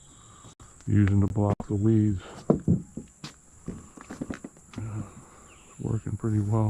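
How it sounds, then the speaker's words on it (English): Crickets chirp in a Deep South garden, making a steady high-pitched drone throughout while a person talks nearby. "Oh, crickets."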